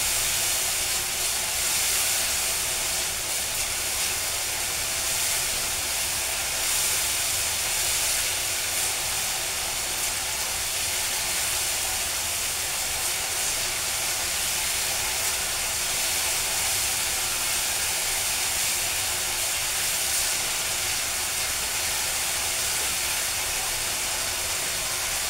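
Spices and fish curry masala fry in hot oil in a home kitchen, a steady, loud sizzling hiss that carries on unbroken for the whole stretch with no talking.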